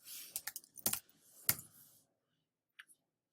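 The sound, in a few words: typing a name on a computer keyboard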